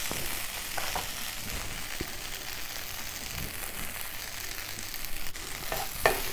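Rice flakes uppuma with grated coconut being stirred in a pan, giving a steady sizzle and frying hiss with soft scraping strokes throughout, plus a sharper clink near the end.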